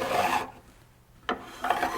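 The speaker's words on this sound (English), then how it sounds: "There's a distinct sound you're going to hear when you're filing metal." A file rasps back and forth over metal guitar fret ends in short scraping strokes, pausing briefly between passes; close and fairly loud.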